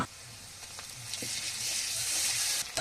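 Chopped onion, slit green chilies and ginger-garlic paste frying in hot oil in a pan for a fish and mankachu curry, a soft steady sizzle that swells louder toward the end.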